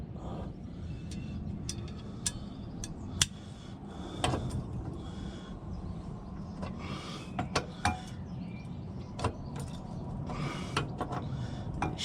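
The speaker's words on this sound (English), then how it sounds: "just got to do the big 18mm bolt" Metallic ratcheting and creaking clicks from a wrench undoing a large 18mm bolt on the front anti-roll bar of a Volvo V70, in irregular bursts over a steady low background hum, close by.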